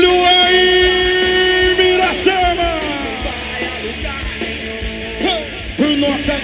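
A rodeo crowd yells and cheers loudly for a rider, several voices shouting together in long sustained calls that rise and fall over a steady background din.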